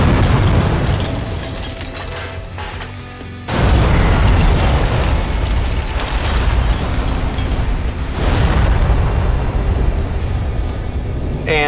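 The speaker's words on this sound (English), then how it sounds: "And there's a gas station explosion." Gas station explosion sound effect in a couple of versions: a roaring blast fading out, then a second sudden, louder eruption with sustained fiery rumble and debris, followed by another surge near the end, no talk.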